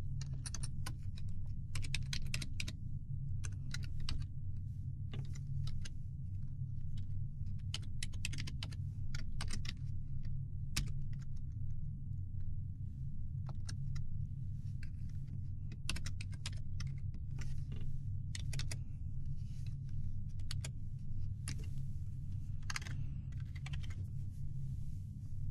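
Code typed on a computer keyboard, a steady run of close, crisp key clicks in uneven bursts and pauses for about twenty-five seconds over a low background hum.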